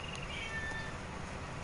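A cat gives a short meow or two, thin and fairly faint, set against a constant droning background noise.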